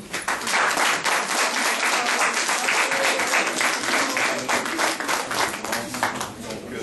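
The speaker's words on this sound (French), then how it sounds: "Je vous demande de l'applaudir, s'il vous plaît." Audience applause at a Haitian consulate reception, sustained and fairly loud clapping from a crowded room lasting several seconds, steady throughout with a slight fade toward the end.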